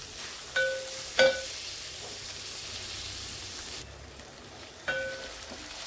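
Crushed garlic and green chili thecha frying in a hot oil tempering, a soft steady hiss with a few sharp utensil clinks and scrapes over it, close by and fairly quiet.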